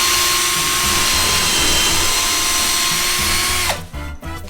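A power drill whirs loudly and steadily for several seconds during home renovation work on a backyard, then winds down and stops near the end, leaving some faint clatter.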